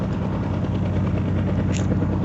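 Steady helicopter rotor drone with a low engine rumble from the video game Indian Bike Driving 3D, continuous and fairly loud throughout, no voices.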